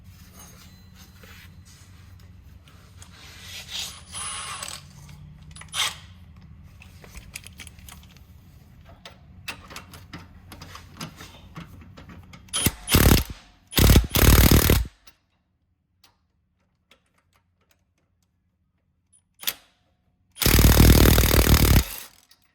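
Work on a JKS Quicker Disconnect on a lifted 2020 Jeep Wrangler Rubicon, breaking a nut loose with a wrench and a punch for leverage: soft metallic clicks and scraping, then several loud, harsh bursts of grinding or ratcheting close by.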